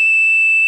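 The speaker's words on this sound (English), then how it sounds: "Probably just give me the dial tone on that" Telephone dial tone on a payphone line, heard as a steady, continuous electronic tone that holds unbroken and fairly loud for the whole short moment, with no talk over it.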